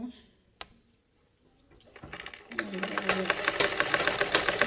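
A sewing machine stitches clothes for a deity's idol, starting with a sharp click and quiet pause, then running in a steady, rapid mechanical chatter that grows louder and continues to the end.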